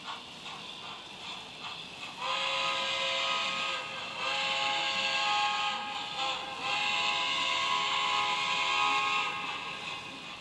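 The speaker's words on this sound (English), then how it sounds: "There's 164 wheels on this train rolling right now." A long model train of Tyco box cars with horn-hook couplers and 164 all-metal wheels runs on its track, a steady close rolling hum with sustained whistle-like tones rising and holding over it.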